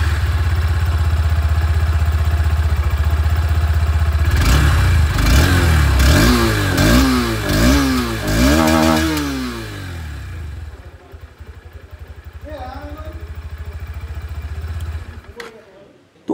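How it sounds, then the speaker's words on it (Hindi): A 2025 Honda Hornet 2.0 motorcycle idles loudly through its exhaust, then revs repeatedly in sharp bursts, rising and falling several times before settling back to a rumbling idle. "जो एग्जॉस्ट साउंड है वो भी सुनाना चाहूँगा"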